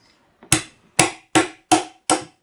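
Hammer blows breaking apart a dried chaga mushroom: five sharp, close, loud strikes at an even, steady rhythm, with no talk.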